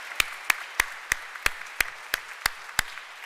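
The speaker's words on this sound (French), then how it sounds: "Encore, bravo, on les applaudit très fort." A few hands in a church congregation clap at Sunday Mass, slow and evenly spaced sharp claps, roughly three per second, distinct and isolated against a quiet room.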